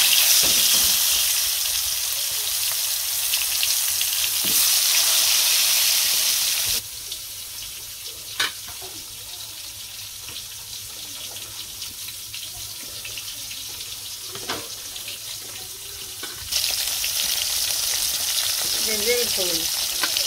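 Pointed gourd (potol) fries in oil in a village kitchen with a constant crackling sizzle. It is louder at the start and end, softer in the middle, with scattered clinks.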